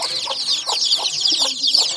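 Hens with desi chicks kept under a light at night, clucking in a quick irregular series of short calls, close and fairly loud, with no talk.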